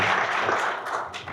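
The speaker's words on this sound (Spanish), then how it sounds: "Un aplauso para él, por favor." Seminar audience applauding a speaker at an urban mobility conference, a brief dense burst of clapping heard alone.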